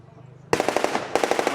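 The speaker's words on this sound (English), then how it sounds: "Now they're going to be using this 30 caliber here." A 30 caliber machine gun fires at a battle re-enactment at Ramsbottom station, breaking a near-quiet lull with two loud, close bursts of rapid rhythmic shots, the second following a short gap.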